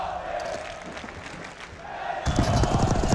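A Call of Duty esports tournament crowd in Spain starts up partway through, a sudden swell of loud cheering and shouting that swamps the quieter arena murmur before it.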